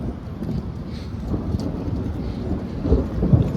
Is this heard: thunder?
yes